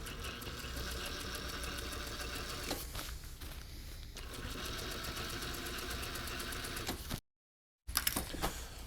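A sewing machine stitches a seam on a down jacket with a steady, close mechanical whir and rapid needle ticking, briefly cutting to silence before starting again.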